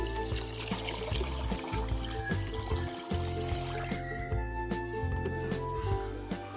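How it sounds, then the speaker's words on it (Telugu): Water pours steadily onto washed rice in a pot, a close, trickling splash over a low background hum, with no talking. "2 గ్లాసుకి డబుల్ క్వాంటిటీలో నీళ్ళు తీసుకోవాలి."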